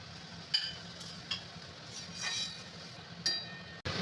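Prawn malai koftas go into a pan of simmering coconut-milk gravy, with a soft, steady bubbling hiss. A few sharp clinks of a spoon against the pan stand out, close and moderately loud.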